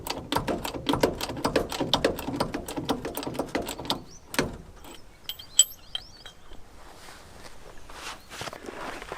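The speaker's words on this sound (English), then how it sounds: "I'm going to put this underneath it and slowly jack the vehicle up" Jack lifting a Series 2 4x4 by the rear spring hanger, a rapid run of close mechanical ratcheting clicks that stops partway, followed by sparse lighter clicks and handling noises.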